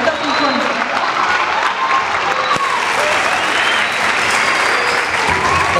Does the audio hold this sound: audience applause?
yes